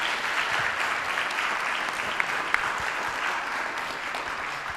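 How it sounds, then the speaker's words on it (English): Conference audience at a technical university in Mombasa giving a steady round of applause, dense even clapping that carries at a constant level for several seconds with a few sharper claps standing out. "Let us give them a good round of applause"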